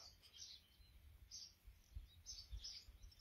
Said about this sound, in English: There are so many songbirds here.